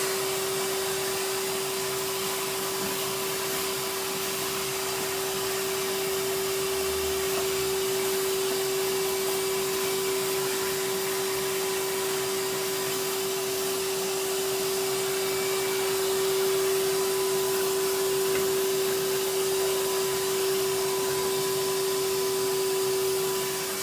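A vacuum cleaner sucks up dust with a continuous loud, steady motor whine and no break. There is a faint bump near the middle.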